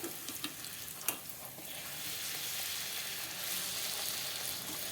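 Moong dal masala puris deep-frying in hot oil, a steady close sizzle and crackle that runs throughout with a few brief louder pops near the start.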